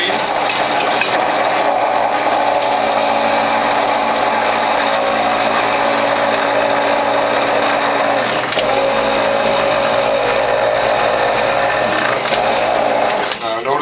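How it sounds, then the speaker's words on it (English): A juicer motor strains steadily as it presses French sorrel greens, a continuous loud mechanical whir with grinding texture running throughout, with a brief dip near the middle. "Notice my motor working hard,"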